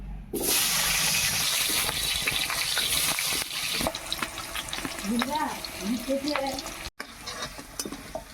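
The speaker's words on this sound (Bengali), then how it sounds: "মাছ ভাজা তেলে আলুগুলোকে ভেজে নেবো" Potatoes frying in oil left over from frying fish, a steady close sizzle with stirring and scraping sounds, a faint voice speaking partway through.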